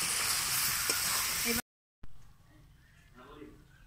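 Chicken pieces being sautéed for a Bengali chicken dak bungalow curry sizzle loudly in the pan with stirring. After a brief cut, a quieter stretch follows where a voice talks over a faint background.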